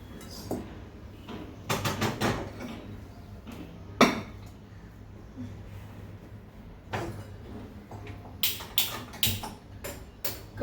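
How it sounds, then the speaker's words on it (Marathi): A kadhai set down on a stove in a home kitchen during pav bhaji cooking gives several scattered metallic clanks and knocks, some close and sharp, with a quicker cluster of clatters near the end and no talk. "तोपर्यंत मी कढई ठेवते"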